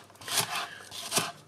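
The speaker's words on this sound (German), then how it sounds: "schneide mir jetzt einmal meine Zwiebel" Several crisp knife chops through an onion on a cutting board, irregularly spaced, close and fairly quiet with no talking.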